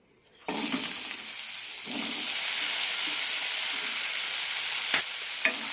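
Radish pieces are sautéed in half a teaspoon of oil for radish sambar, bursting into a loud, steady sizzle that holds evenly throughout, with a couple of sharp utensil clicks near the end.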